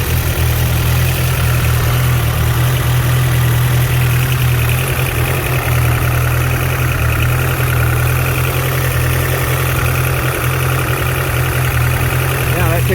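A Honda Civic hatchback engine idles steadily and close by, a constant loud low rumble with no revving or pauses.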